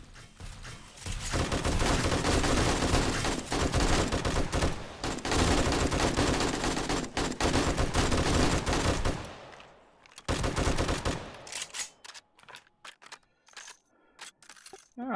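Sustained automatic gunfire from a gun in 7 Days to Die rattles loudly and almost without pause for about ten seconds, then breaks into sparser bursts and single shots, with no talking.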